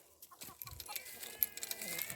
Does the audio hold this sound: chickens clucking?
yes